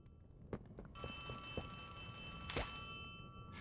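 Telephone ringing in the horror game Poppy Playtime, a steady electronic ring that sets in about a second in and continues over scattered thumps and footsteps.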